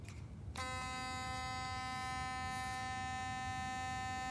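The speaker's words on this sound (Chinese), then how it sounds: "因为这个电动牙刷以后，它可以在周围这样产生一些震动，而让这个花呢花粉飞扬" An electric toothbrush switches on after a brief moment and holds a steady, loud, close buzzing hum while used to vibrate flowers for hand pollination.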